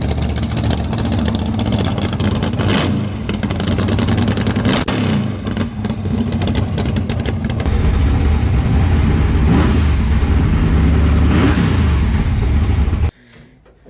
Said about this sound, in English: bring the RPMs up a little bit, give it a little rev.